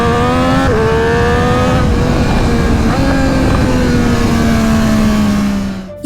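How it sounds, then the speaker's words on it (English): A motorcycle engine revving hard and holding high revs, a loud, close, sustained roar whose pitch jumps and then slowly sinks before cutting off sharply at the end, with no voices. "the sound of the motorcycle heightens your awareness and your adrenaline"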